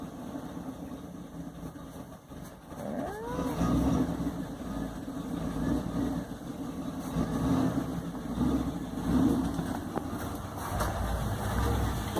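Cold start of a 1979 Oldsmobile Cutlass Brougham with T-tops, settling into a steady, rumbling idle that runs loud and close throughout, with a brief rise near the start.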